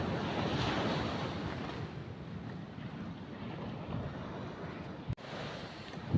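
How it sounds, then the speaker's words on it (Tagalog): Steady rush of ocean surf with gusting wind buffeting the microphone, a continuous broad roar with one sharp knock near the end. "kasi palakas na yung alon aabutin"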